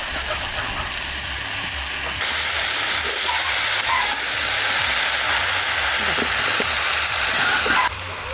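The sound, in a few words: radish, potato and kohlrabi frying in a pan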